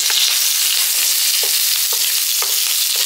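Curry leaves hitting hot oil in a pan for a garlic spice powder, a loud, dense, steady crackling sizzle up close, punctuated by periodic scraping stirs.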